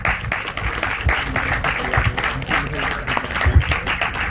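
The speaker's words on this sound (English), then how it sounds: "let's give a huge round of applause to Dávid." An audience at a festival talk area claps steadily, a dense patter of many hands that stays even throughout, moderately loud with no voices standing out.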